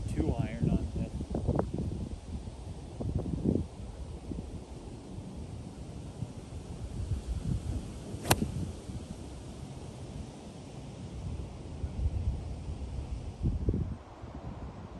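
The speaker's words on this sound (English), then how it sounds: "We got a decent wind in our face." Steady wind gusts across an open golf course buffet the microphone, a constant rushing hiss beneath someone talking on and off throughout.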